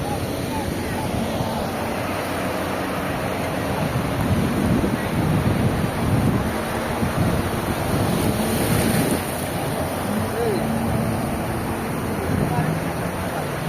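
Surf rolls in at Baga Beach in North Goa with a steady wash of waves, buffeted by wind on the microphone, while a person talks over it.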